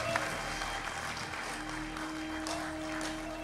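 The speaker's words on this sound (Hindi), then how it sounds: "जोरदार ताली से स्वागत करें कि माई ये झिंगाया आ गई।" Dense audience applause greets a performer arriving on stage at a singing competition show, a continuous, moderately loud wash of clapping with a low hum running underneath.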